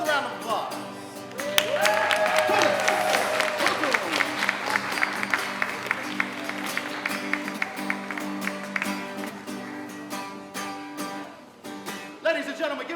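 A crowd applauds performers at an Asian and Pacific Islander American Heritage Month event, with sustained clapping mixed with band music and scattered louder claps, easing toward the end.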